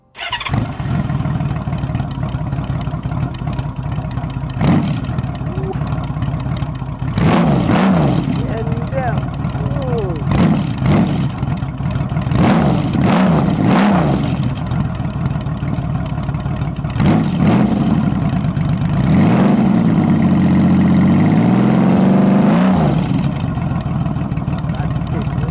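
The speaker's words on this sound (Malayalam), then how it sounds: "നമുക്കിനി ഇതിൻ്റെ എക്സോസ്റ്റ് നോട്ട് കേൾക്കാം. 6 സിലിണ്ടർ ഫയർ അപ്പ് ചെയ്യുന്നതിൻ്റെ സൗണ്ട് കേൾക്കാം." A Honda Valkyrie six-cylinder motorcycle fires up, its engine catching and the exhaust note swelling through several revs before settling, loud and close throughout.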